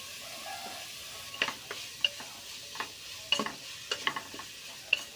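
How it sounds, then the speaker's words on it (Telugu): Chopped onions, green chillies and tomatoes with salt fry in a pan under a low, steady sizzle, with scattered clicks and scrapes from stirring, close up and without speech. "ముందు కట్ చేసి పెట్టుకున్న ఉల్లిపాయ, పచ్చిమిర్చి, టమాటా 3 వేసుకొని కొంచెం ఉప్పు వేసుకొని ఒక 5 మినిట్స్ మధ్య వరకు ఉంచుకోవాలి"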